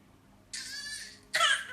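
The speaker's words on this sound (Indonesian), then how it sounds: "Waduh, batuk ya?" A child produces two short, bright, breathy bursts about a second apart, the first longer and the second sharper and louder, close to the microphone and otherwise quiet.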